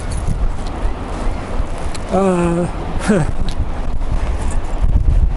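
Strong wind buffeting a camera's plugged-in external microphone on a very windy February beach, a steady low roar throughout with two brief tonal calls in the middle.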